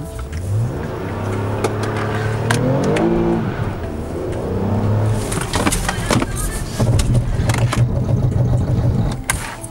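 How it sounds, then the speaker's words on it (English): A 2018 Toyota Camry XSE accelerates with its engine revving up through rising pitch, then the anti-lock brakes kick in as the car stops hard, with rattling pulses and road noise mixing in. "you heard the anti-lock brake system kicking in"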